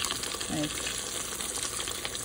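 Breaded green tomatoes frying in hot oil, a steady close crackling sizzle that runs the whole time, with a brief faint voice early on.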